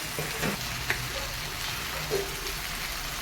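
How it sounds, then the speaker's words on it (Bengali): Garlic, Kashmiri chili and poppy seeds fry in a pan for a Bengali fig and prawn curry, giving a soft, steady sizzle with a few small pops and no talking. "রসুনটা আমার ফ্রাই হয়ে গেছে এবারে আমি কাশ্মীরি লঙ্কা দেবো"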